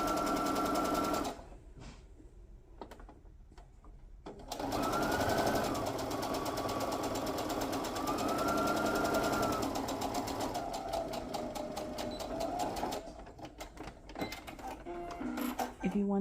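A sewing machine stitches a Santa stocking cut with an AccuQuilt GO! die, its steady whirring hum running for long stretches and pausing between bursts of sewing.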